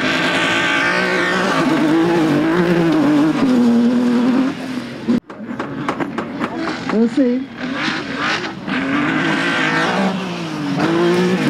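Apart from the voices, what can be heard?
rally car accelerating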